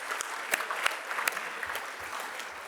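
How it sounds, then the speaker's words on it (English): Audience applause at an annual celebration evening, a steady wash of many hands clapping with a few sharper claps standing out, moderately loud and continuous with no talk. "let's give that a round of applause"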